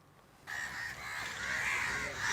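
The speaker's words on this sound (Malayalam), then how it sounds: "കാക്കകൾ കൂട്ടമായി എത്തും" Crows flock together on a beach, several birds cawing loudly and overlapping in a continuous chorus that starts abruptly after a quiet moment.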